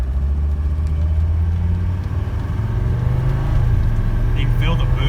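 A 1985 Mercedes 300D turbo diesel accelerating from a standstill, a loud steady low engine drone that rises slightly in pitch over several seconds, heard from inside the car with a voice talking over it.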